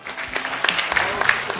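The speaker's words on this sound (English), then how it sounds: "Professor Nwaga, a big round of applause to him" Audience members at a live televised economic debate applaud a panelist, a moderately loud spatter of clapping with sharp individual claps popping out, mixed with some voices.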